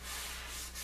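Steady, close scratchy rubbing of 100-grit sandpaper worked by hand over wood for a pub table build, one brief continuous stroke with no pauses.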